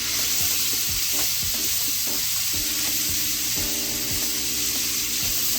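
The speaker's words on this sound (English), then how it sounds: "I'm gonna go back in there and add that ground chuck from earlier, and also that beef sausage from earlier." Ground chuck and beef sausage frying in a pan, a steady sizzle with repeated scrapes and stirs of a utensil knocking against the pan.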